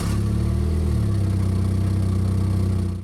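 A car engine idles through its old exhaust system with a deep, rumbling note, steady and close, then cuts off at the end.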